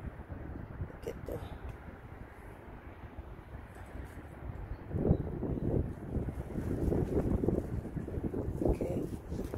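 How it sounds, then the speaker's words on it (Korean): Strong gusty wind on a rooftop garden, a steady rushing roar that swells louder in the second half, buffeting the microphone, with no clear talk. "막 날아다니는 바람이 엄청 불고 있어요, 지금 갑자기."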